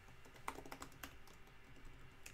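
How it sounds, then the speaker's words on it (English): Rapid, uneven keystrokes clatter on a new, larger computer keyboard, close and fairly quiet, with no voices. "Still getting used to this keyboard."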